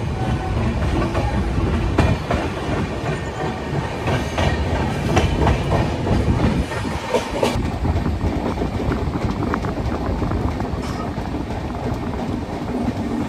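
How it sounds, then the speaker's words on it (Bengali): Darjeeling Mail train pulling out of Bolpur Shantiniketan station, a continuous rumbling roll with rhythmic clatter of wheels on rails, close and steady throughout. "এখানে 3 মিনিট দাঁড়িয়ে ট্রেন রওনা দেবে তার পরবর্তী স্টেশন"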